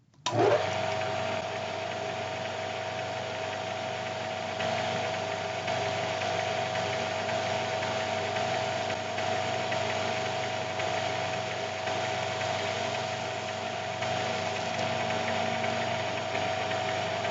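A lathe spinning a rubber bushing, running slightly out of true: a steady mechanical whine with a sustained tonal hum and faint rattling, starting abruptly and holding even for the whole stretch, with no talk.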